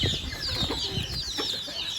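Chickens and chicks gather at a water drinker on a farm, giving steady soft clucks and thin chirps that overlap continuously at close range with no pauses.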